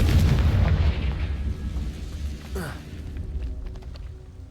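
The Confringo explosive spell in Hogwarts Legacy lands with a loud, booming burst at the start. The blast rumbles and slowly fades, with scattered game sounds after it.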